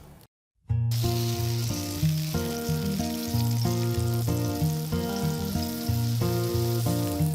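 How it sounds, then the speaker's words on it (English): Tempeh pan-fries in oil with a loud, continuous sizzle that runs beneath prominent background music after a brief silent gap at the start. "let's pan fry the tempeh"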